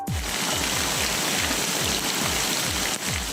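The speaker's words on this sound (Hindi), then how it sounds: "पिंड दादन खान और खेवड़ा समेत गिरदोनवा में भी बादल जमकर बरसे।" Heavy monsoon rain pours around Pind Dadan Khan and Khewra in Pakistan, a continuous close wash of water with repeated low splashing pulses and no speech.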